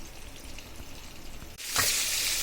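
Food fries in a pan in a home kitchen, a soft background hiss that swells into a loud, bright, continuous sizzle as more goes in partway through, close up with no voices.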